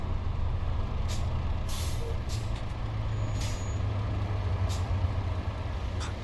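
In Euro Truck Simulator 2, a truck's air brakes release several short hissing bursts over a steady low engine drone as the truck slows near a roundabout.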